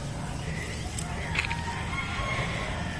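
A rooster crows at a distance in a rural yard, a brief call rising over steady low background noise, with faint activity around it.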